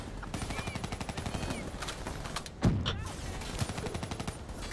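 Rapid gunfire bursts and automatic weapon fire in the Call of Duty Black Ops III campaign, continuous crackling shots with a louder blast midway, under shouted voices.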